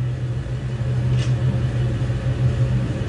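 A heavy train rolls forward at half throttle in the Train Sim World game, producing a continuous low rumble with a steady hum and no other sounds.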